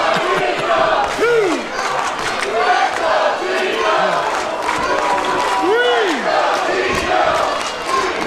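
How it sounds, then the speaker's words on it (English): A large wrestling crowd roars and cheers loudly and continuously, with rising shouts and whoops cutting through the din and a commentator talking over it. "Listen to that crowd. They are behind the young man."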